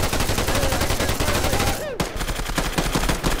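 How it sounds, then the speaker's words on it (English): Rapid automatic gunfire in a video game, loud dense bursts running continuously with a brief dip and a falling whistle-like tone midway, then the firing resumes. "Hey, I was shooting Tennex, motherfucker!"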